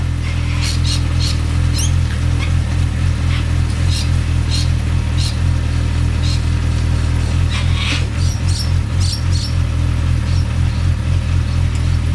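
A homemade go-kart buggy engine runs steadily nearby, a loud low throbbing drone with repeated squeaky mechanical chirps riding over it, no voices.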